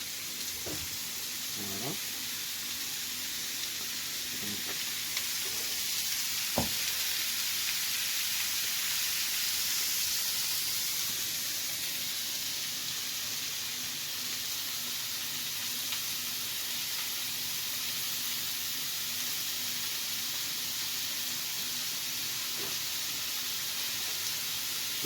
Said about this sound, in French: pendant que la garniture elle cuit tranquillement